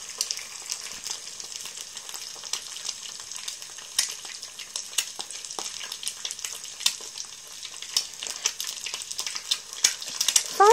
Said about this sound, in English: This will now simmer away within the olive oil.